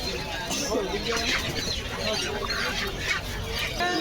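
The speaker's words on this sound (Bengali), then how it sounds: "এখানে পেয়ে যাবেন ফাইটার মুরগি বাচ্চা এটি অনেক বড় হয়" Poultry such as native and fighter chickens, with quail, at a bustling rural market, clucking and squawking steadily over dense crowd chatter and background noise.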